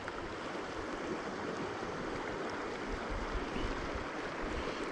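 River water rushes steadily past on a trout-fishing stream, a dense, continuous broadband wash that stays even throughout with no voices.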